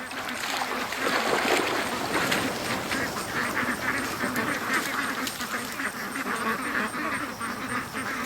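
A flock of ducks quacking in panic close by, a busy chorus of rapid quacks with splashing water throughout, steady for several seconds while a person talks.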